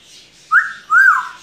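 Two clear rising-and-falling whistles from a pet parrot performing on cue during talk-training, the first short and the second longer, close and loud with no speech.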